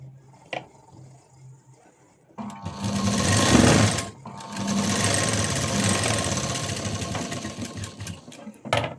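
Sewing machine stitches along the edge of blouse fabric, a steady buzzing whir running in two bursts with a short pause between, preceded by a faint click and a quiet lull.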